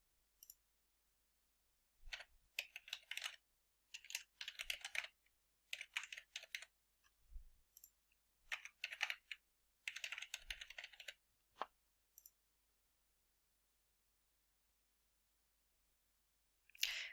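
Someone types a username and password on a computer keyboard: soft, close key clicks in several short, quick bursts separated by pauses, with no other sound.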